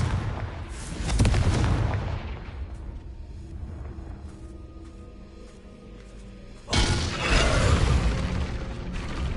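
Two Confringo blasting spells in the video game Hogwarts Legacy explode one after another, each a loud, full-bodied boom with a sustained rumbling decay, separated by quieter ambient hum.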